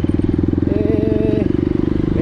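Motorcycles pass on a narrow road, a loud, close engine putter with a rapid, regular pulsing throb throughout, while a person talks over it.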